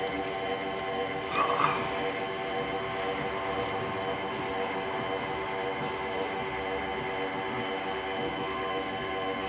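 Steady, continuous whirring drone with layered tonal hum from a smoke machine running for a car EVAP system test, unchanging at a constant level throughout.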